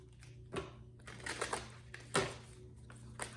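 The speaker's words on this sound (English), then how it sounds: "hold on, I'm going to shuffle" Oracle cards from a Dragon Path deck being shuffled by hand, a few quiet papery riffles and slaps spaced across the moment with no talking.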